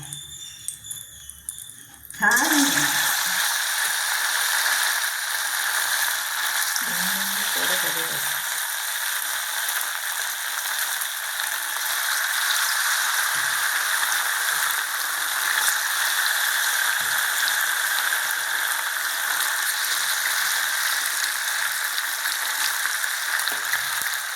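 Chilli chicken pieces dropped into hot oil, a sudden loud burst of frying that settles into a steady, close sizzle carrying on unbroken, with a few light clinks of utensils.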